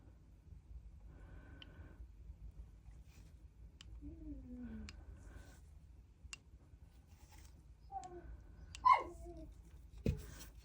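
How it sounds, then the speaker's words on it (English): A dog whines and cries faintly in the background indoors during a craft session, with a few short whimpers and squeaky wavering cries, plus light tapping and handling noises, no clear speech. "Sorry if you can hear my dog crying in the background."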